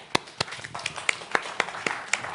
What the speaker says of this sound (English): let me start with the short applause to the First Lady of Ukraine